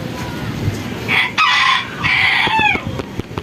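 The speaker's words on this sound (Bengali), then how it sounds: "মুরগিগুলো ডাকতেছে" Chickens on a rooftop garden crow and cluck close by, with two strong crowing calls rising over scattered clucks and some faint talk.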